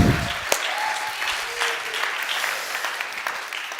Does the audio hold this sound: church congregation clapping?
yes